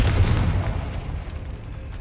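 A Confringo explosion spell goes off in Hogwarts Legacy: one loud, deep boom that bursts at once and then rumbles away over about two seconds.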